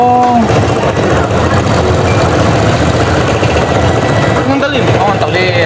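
A sewing-machine motor rigged as a drink mixer whips a thick beverage, buzzing in a steady, loud, rapid rattle throughout, with faint voices and brief clinks on top.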